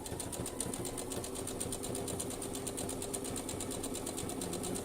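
A sewing machine stitches felt in a close embroidery weave, a fast, steady, even mechanical whirr that runs without a break and with no talk.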